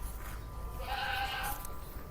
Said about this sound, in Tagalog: ito naman yung isang bahay talaga ng kambing ni Nasir